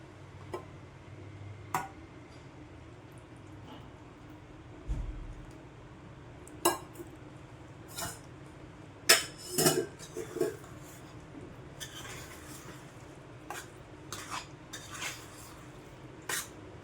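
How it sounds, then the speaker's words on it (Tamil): Egg being mixed into a cooked pumpkin pasta sauce gives faint, scattered clicks and clinks of a utensil against the pot or bowl, spread unevenly over a quiet background with no talking. "எக்கை ஆட் பண்ணிவிட்டு நல்லா மிக்ஸ் பண்ணிக்கலாம்."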